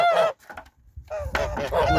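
Geese on a backyard farm honk loudly in two bursts, a nasal call at the start and a longer run of honks toward the end, with a quieter gap between them.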